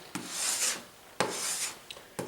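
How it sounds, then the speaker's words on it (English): Rasping scrapes from a long-handled razor blade scraper cleaning a paint palette, two long strokes followed by a few brief ones, close and steady. "I'm cleaning off my palette with my trusty long handle razor blade scraper."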